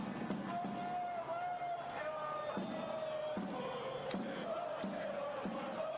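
A football stadium crowd at an Inverness Caley Thistle match chants and sings in rhythmic, repeated bursts, a steady roar of massed voices with a sustained sung tone running throughout.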